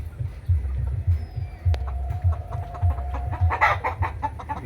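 Chickens on an open-air free-range farm in Bangladesh cluck in soft, low, rhythmic pulses close by, with scattered fainter calls and background ambience.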